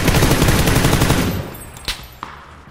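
Rapid bursts of gunfire from the video game PUBG rattle loudly and steadily, then cut off into a quieter stretch broken by two sharp isolated shots.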